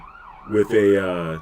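An emergency vehicle siren wails outside, rising into a loud, sweeping tone that holds steady for about a second, close and alone without talk.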